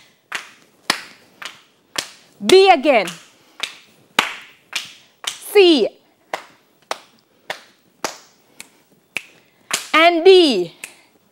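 Sharp claps or snaps tap out a repeating rhythmic pattern in a theatre class, about two strikes per second, close and clear, with a voice chanting syllables between them.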